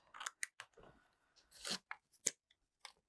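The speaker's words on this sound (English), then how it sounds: "So all I'm going to do is just cut away the excess parchment," Scissors snipping away excess parchment paper in a papercraft project, a series of short crisp cuts with brief rustles in between, close and quiet with no talking.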